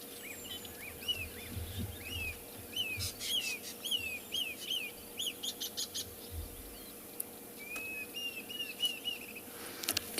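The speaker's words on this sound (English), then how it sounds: "I can hear so many bird calls. I can hear the Diederik's cuckoo." Several wild birds call at sunrise on an African safari at Tswalu, including a Diederik's cuckoo, with repeated rising chirps and tweets spread through the clip, fairly faint against a quiet outdoor background.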